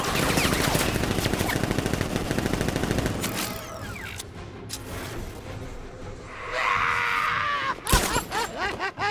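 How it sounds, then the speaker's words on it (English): Rapid automatic gunfire in the Batman: Arkham Knight video game, a dense burst of loud shots for about four seconds, then quieter game effects, a sharp crack and a few scattered closing bangs. "Open fire! Shoot everything!"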